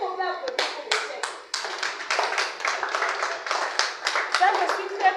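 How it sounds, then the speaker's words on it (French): A small audience at a round-table discussion on gender and inclusion claps for the speakers in short, uneven bursts of hands, close and lively, with voices heard at the start and between claps. "Est-ce qu'on peut applaudir pour les chefs?"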